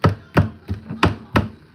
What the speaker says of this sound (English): Stab the fuck out your chicken.